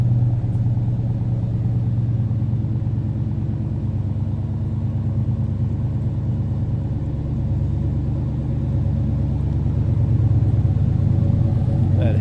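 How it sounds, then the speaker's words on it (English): Deep, steady idle of the Hemi V8 in a 2013 Dodge Charger SRT8 Super Bee, recorded from behind the car: a low, throbbing exhaust rumble close up and continuous, swelling slightly near the end. "Hemi putting out a little rumble."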